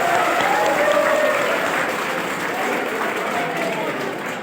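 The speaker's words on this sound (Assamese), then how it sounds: "তেখেতলোকৰ কাৰণে এটা জোৰকৈ হাত চাপৰি মই সকলোকে অনুৰোধ জনালোঁ" Sustained applause from a seated crowd honoring students who earned distinction, dense continuous clapping that fills the room for several seconds and eases slightly toward the end, with no one talking over it.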